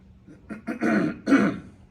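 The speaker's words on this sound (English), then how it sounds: "I'm going to clear my throat." A person clears their throat close by in two or three short, rough bursts, the last one the strongest.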